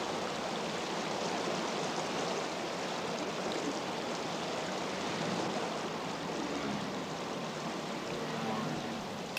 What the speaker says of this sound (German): Wo fließt denn das viele Wasser hin?